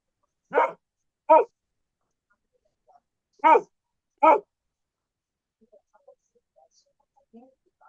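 A dog barks four times in two quick pairs, fairly close, with quiet pauses between and faint rustling afterward.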